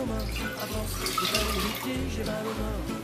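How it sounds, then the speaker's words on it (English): Water pours steadily into a pickle brine of white wine vinegar for homemade dill pickles, a continuous splashing wash with a low hum and faint voice underneath. "we're going to add our water."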